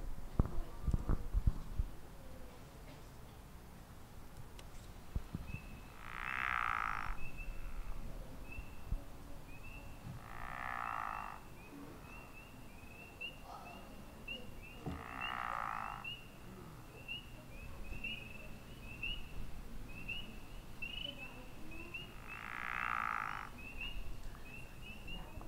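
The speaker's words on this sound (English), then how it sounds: "So the pickerel is kind of like a snore, and that's the way that we identify it." A pickerel frog gives several slow, snore-like croaks spaced a few seconds apart, over a quiet outdoor wetland background with faint insect or bird chirps.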